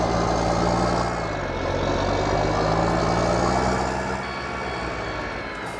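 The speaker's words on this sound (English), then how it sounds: "This tractor sounds really nice." A heavy tractor engine in Farming Simulator 19 drones steadily at close range, its low rumble shifting slightly in pitch as it runs.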